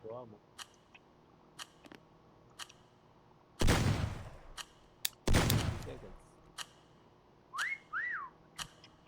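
Short rising and falling whistles from a person, faint and intermittent, with two loud bursts of noise and scattered clicks between them in a quiet room.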